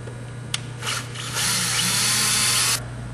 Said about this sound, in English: now we're ready to drill